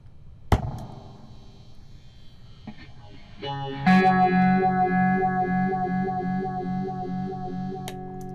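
An electric guitar plays a sustained chord through an MXR Phase 90 phaser pedal with a noisy circuit, a swirling, distorted effect, with a steady hiss of circuit noise underneath and a sharp pluck near the start.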